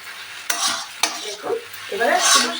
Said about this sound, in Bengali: এইভাবে ফ্রাই করতে হবে বন্ধুরা একটুও জল লাগবে না